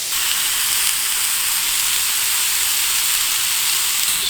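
Ostrich steak frying in a pan, a steady bright sizzle and hiss that holds constant and fairly loud throughout, with no voices.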